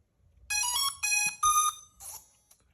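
A consumer drone chirps a bright electronic startup melody as it powers on, three sustained beeping tones followed by a softer short trill, close and clear over faint background hum.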